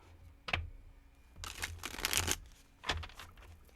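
Tarot cards being shuffled by hand in a quiet room, giving several brisk riffling and papery slapping bursts with short pauses between them.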